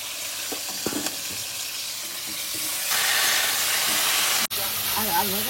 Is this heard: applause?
no